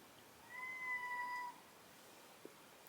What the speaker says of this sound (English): That's Goldie making meowing sounds.